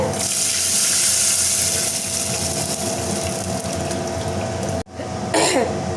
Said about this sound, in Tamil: இப்போ நம்ம ரசக்கலவை தண்ணி வந்து செத்திக்கலாங்க